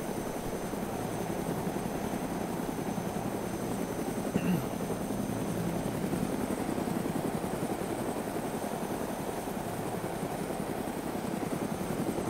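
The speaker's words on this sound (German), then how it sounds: "Ich habe einen Hubschrauber, der wendet sich." A helicopter flies in the video game DayZ, its rotor making a dense, steady chopping drone that fills the whole stretch at a constant, close, moderate level.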